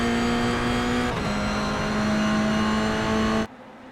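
A Toyota GR86 race car at Sebring, heard from inside the cockpit, holds a loud steady engine drone with a brief dip in pitch during a shift before cutting off abruptly near the end.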